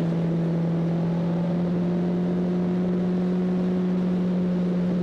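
A Honda CB 1300 Super Four motorcycle engine holds a steady, smooth low drone with a strong constant hum, running alone without any voices.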